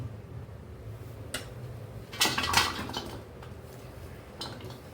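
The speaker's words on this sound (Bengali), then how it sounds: "আমি পেঁয়াজগুলোকে এবার একটা বলের মধ্যে নিয়ে নিচ্ছি।" Sliced onions dropped into a bowl for peyaji make a short cluster of clinks and rustles near the middle, set against a low steady background hum, with no voices.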